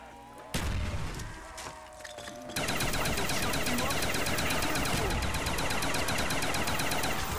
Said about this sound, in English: Let's just throw a grenade there.